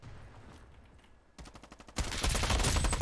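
Shotgun and rapid gunfire in a Roblox first-person shooter game: quiet at first, then a burst of sharp shots that swells into dense, loud continuous firing.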